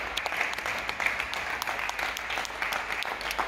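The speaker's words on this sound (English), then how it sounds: "our neighbors are clapping too" Neighbors clap together at 8 o'clock during quarantine, a steady spread-out applause of many hands from nearby windows and balconies, continuous and moderately loud with no talking.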